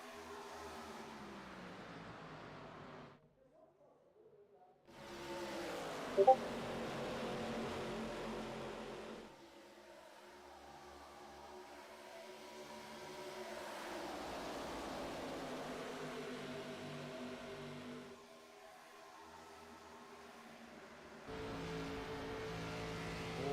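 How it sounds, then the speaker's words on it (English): ARCA series stock race cars driving on an oval track, engines droning and rising in long sustained passes with brief near-silent gaps between them. "Noel, Nairn, Coleman, Baker, and then Sleep now the last car on the lead lap."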